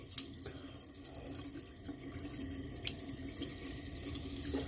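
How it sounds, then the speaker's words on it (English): Tap water runs steadily into a sink while shaving soap is rinsed from a face, a continuous close splashing wash with a few small drips and no talking. "Let me rinse this off the face here."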